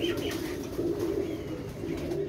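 Pigeons, including flying breeds, coo in low continuous rolling calls close by, with faint higher chirps and light rustling over a steady outdoor background.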